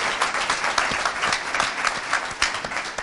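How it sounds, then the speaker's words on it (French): A conference audience applauds after a talk on arts and nature, a loud, dense and sustained burst of many hands clapping close by. "Merci d'applaudir."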